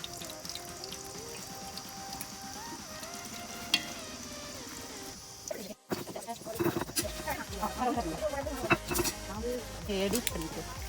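Ghee poured into a hot pan in a village-style outdoor cooking setting, crackling and sizzling as it fries, the spitting growing busier after a brief pause, with people talking over it.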